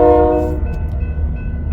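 The Fremont Intermodal freight train in Fremont, Nebraska sounds its horn loud and close as the blast fades out, leaving a steady low rumble of rail cars rolling past.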